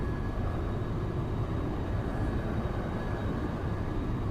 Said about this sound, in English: We just barely went into full afterburner for just a second there.